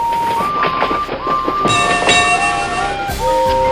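Several steam engine whistles sound at once in layered, sustained tones over steady rumbling train noise, loud and close with no voices.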